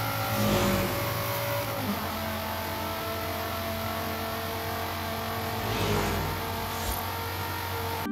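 Car engine driving in Forza Horizon 5, a steady droning hum that swells as it revs, close and continuous with no talking.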